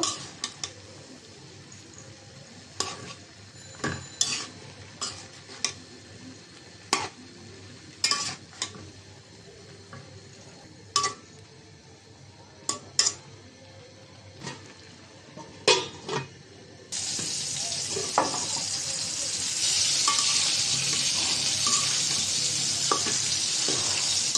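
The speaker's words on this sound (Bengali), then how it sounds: "ভাজিটা একটা নাড়াচাড়া দিয়ে দিব।" A spatula scrapes and clinks around a pan of frying snake gourd, pumpkin and potato bhaji in a series of separate strokes, and a steady loud sizzle rises in the last part.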